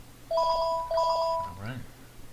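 A phone ringtone trills in two short bursts close by, followed by a brief murmur of voices.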